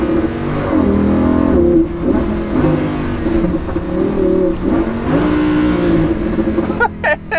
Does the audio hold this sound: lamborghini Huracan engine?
yes